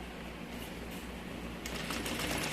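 A sewing machine stitches the lining of a large bag, a continuous fast mechanical whir that grows slightly louder partway through, close and steady.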